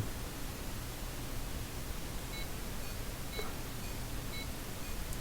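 A small buzzer wired to an Arduino-style board gives a few faint, short electronic beeps, spaced about a second apart. They are nearly buried under steady, loud hiss and static.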